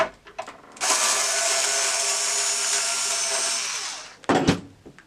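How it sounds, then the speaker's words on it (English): A power driver whirs steadily for about three and a half seconds, backing screws out of the underside of a Janome 2206 sewing machine, with brief handling clatter just before and after the run. "we're going to go ahead and take out the screws on the bottom of the machine"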